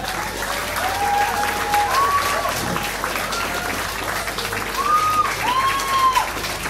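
Steady applause fills the hall at the Miss & Misters Ogre 2015 pageant, a lively audience clapping continuously with faint tonal voices or music riding above it.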